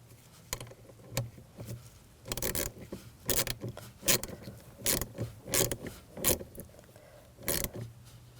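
A ratchet wrench tightens the negative battery terminal on a 2021-2023 Jeep Grand Cherokee L, producing a series of sharp, close metallic clicks and ratcheting bursts in irregular clusters, with faint rustling between them.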